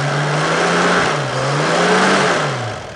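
Car engine with a Kettering points ignition revved during a dwell angle check, a steady mid-pitched engine drone that rises and falls slightly as the throttle is blipped, close and alone without talk.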